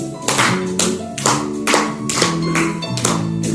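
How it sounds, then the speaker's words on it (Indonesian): A church congregation claps along during worship, steady rhythmic hand claps beating roughly every half second over sustained music, loud and close. "Bisa tepuk tangan."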